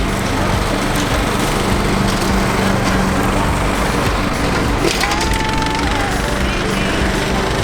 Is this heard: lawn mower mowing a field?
yes